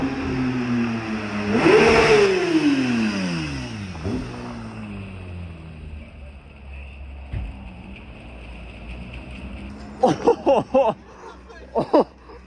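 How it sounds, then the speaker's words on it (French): A Porsche GT3 with a naturally aspirated flat-six revs hard and bangs against its limiter at a Deauville car meet, rising loudly then fading, with brief voices and laughter afterwards. "la GT3 qui tape un rupteur."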